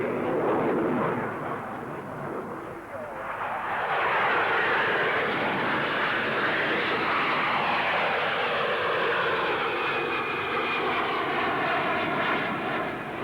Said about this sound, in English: the P-1127, powered by a vector thrust turbofan engine, shows its paces with a neighborly Hunter